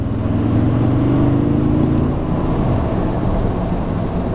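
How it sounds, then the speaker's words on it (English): A 2022 Toyota Tundra Capstone 4x4 accelerates at three-quarter throttle, its engine a steady, loud low drone with a rising tone early on, heard from inside the cab with no talking. "Let's do a quick acceleration. I will put it up for you guys to see very quickly. Maybe you'll be able to hear the sound. All right, 3/4 throttle."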